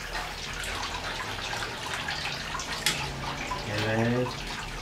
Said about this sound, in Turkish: Kaşıkları duruyoruz.